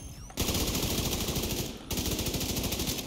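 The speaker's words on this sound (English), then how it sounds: "Really accurate as well, this assault rifle." Assault rifle fire in The Division 2 video game: two long rapid automatic bursts, loud and close, separated by a brief pause, each a dense rattle of shots.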